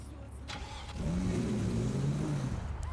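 A Ferrari's engine in GTA 5 rises into a steady, close rev with a climbing growl after a short start, and voices talk faintly in the background.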